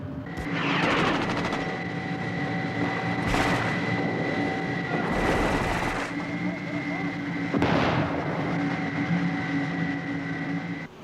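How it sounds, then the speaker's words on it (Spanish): Combat near a Soviet military column in Afghanistan, with gunfire and heavy artillery or rocket explosions erupting in several loud bursts over a constant engine rumble. "Allá adelante están disparando."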